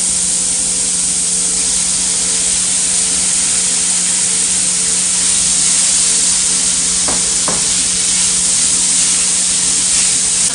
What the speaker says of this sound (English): Fry it up like that.